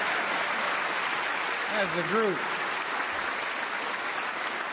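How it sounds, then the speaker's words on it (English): Crowd applause at a Hall of Fame induction tribute ceremony, steady clapping filling the whole stretch, with a host's voice speaking briefly over it. "You guys should applaud right there."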